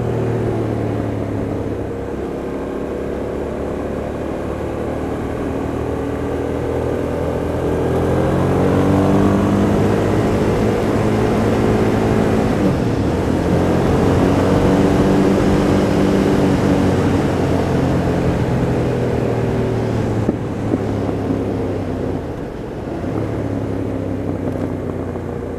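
A 2008 Hyosung GT650R motorcycle with a Scorpion exhaust roars along an airport perimeter road, a loud, steady engine drone that swells as it revs and eases off, with road rumble and wind underneath.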